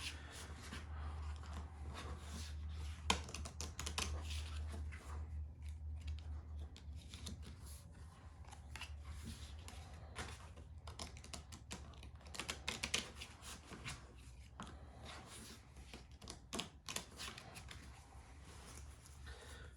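Deck of cards for a pro wrestling promoter tabletop game being shuffled, a long stretch of dense, quiet riffling and rapid card clicks with a low hum beneath, no speech.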